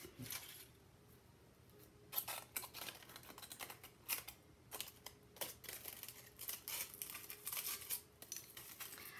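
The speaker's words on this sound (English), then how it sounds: "I just did the scissors at the bottom of the bottle" Scissors snip through the bottom of a plastic bottle in a series of sharp, crisp cuts with light crinkling between them, quiet and close, no voices.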